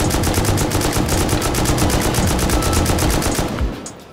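Sustained automatic gunfire from an AK and an M2 in the survival game Rust, a dense rapid stream of loud close shots that runs for about three and a half seconds, then cuts off.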